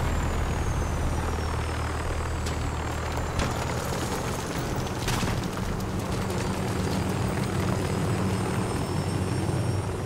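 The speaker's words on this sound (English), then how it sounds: "we actually landed a helicopter without blowing up" A helicopter sets down during a Call of Duty: Modern Warfare mission. Its rotors and engine keep up a steady, heavy thrum with whining turbine tones and a few sharp bursts throughout, and no talk is heard.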